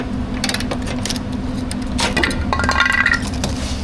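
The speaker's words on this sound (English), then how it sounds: "Release the brake caliper compressor." A brake caliper compressor tool is released during brake work on a supercharged LS Tahoe. Scattered metallic clicks and clinks sound over a steady low background hum, with a brief cluster of sharper cracks near the end.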